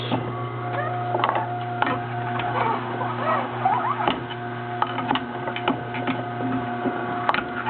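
Hard apples being fed through a juicer machine, a steady motor hum running underneath with repeated short crunching and grinding bursts as the fruit goes through.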